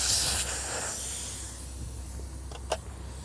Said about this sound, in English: remove the air from the tire and the tube. Use a valve core tool and remove the valve core completely